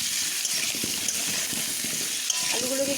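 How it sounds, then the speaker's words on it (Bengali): Potatoes frying in hot oil with turmeric and salt, a steady close sizzle with faint stirring and scraping, no talk over it. "আলুগুলোকে একটু বেশ ভালোভাবে ভেজে নেব"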